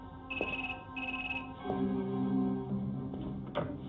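A phone rings with short electronic chirping tones near the start, then continues at a quieter level under a faint background tone.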